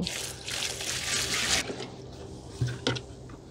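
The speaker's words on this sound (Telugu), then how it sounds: "ఇప్పుడు దీంట్లో నేను 8 liters వాటర్ పోస్తున్నానండి." Eight liters of water poured into a container holding cow dung for homemade plant fertilizer: a steady close pour for about a second and a half, then softer trickles and a couple of small splashes.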